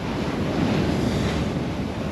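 Ocean waves around a sailing boat at sea, a loud continuous rushing wash mixed with heavy wind buffeting, close and steady throughout.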